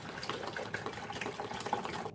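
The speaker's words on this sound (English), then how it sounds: "fill it up with water, how much you want" Water gushes steadily into a coffee maker's reservoir, a continuous close-up pour lasting about two seconds before it cuts off, being filled to brew hibiscus tea.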